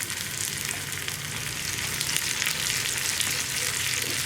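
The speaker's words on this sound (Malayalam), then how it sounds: "ഈ ഉള്ളി ഒന്നിനി ബ്രൗൺ ആയി വരുന്നത് വരെ ഇളക്കി കൊടുക്കണം" Onions and two or three dried red chillies frying in a pan for a lentil and long-bean curry, a dense continuous sizzle with soft stirring noises close by, no talk.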